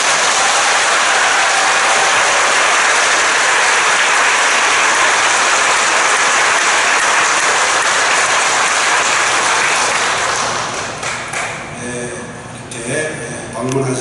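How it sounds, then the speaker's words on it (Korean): A church congregation applauds to welcome a visiting bishop, dense sustained clapping for about ten seconds that thins into scattered claps before fading, with voices entering near the end. "주님 환영하는 박수 부탁드립니다."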